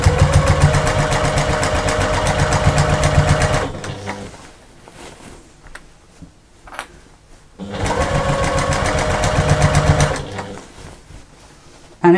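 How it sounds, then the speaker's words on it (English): Sewing machine running in two long bursts of rapid, steady stitching, sewing around the top of an expanding fabric bag a quarter inch from the edge, loud and close, with a quieter gap of handling noises between the runs. "you're just literally stitching all the way around the top, quarter of an inch thereabouts"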